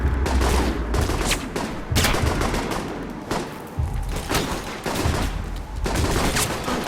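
Gunfire from the video game Alpha Protocol, repeated loud bursts of shots and volleys in irregular clusters, close and dense, no talking.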